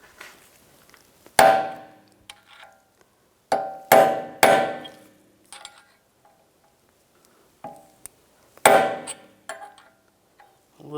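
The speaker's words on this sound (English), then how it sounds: "we're just going to take a punch and just peen this over" Hammer blows on a punch to peen over the axle nut on a 2014–2022 Jeep Cherokee: sharp, ringing metallic strikes, single and in quick pairs, separated by pauses with faint clinks.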